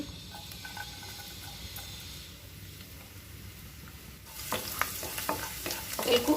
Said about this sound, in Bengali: তেলটা একটু গরম হলে আমি রসুনটা দিয়ে দিব